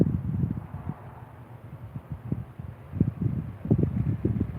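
Outdoor wind buffeting a microphone in irregular low rumbling gusts that swell and fade, with faint rustling in between, fairly quiet and with no talk.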